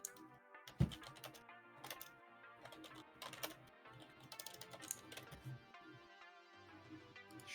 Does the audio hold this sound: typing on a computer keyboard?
yes